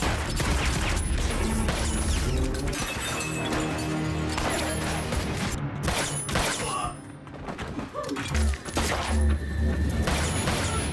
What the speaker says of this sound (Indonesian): hingga terjadilah aksi tembak-tembakan